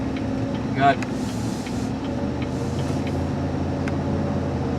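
A steady engine hum from inside the cabin of a 2019 Cadillac Escalade while driving, even and sustained, with someone talking over it.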